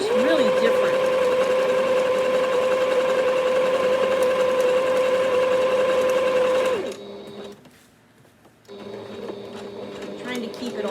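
A Singer Heritage sewing machine runs a zig zag stitch in a steady, loud mechanical hum with a fast rhythmic clatter, then slows and pauses before starting up again more quietly.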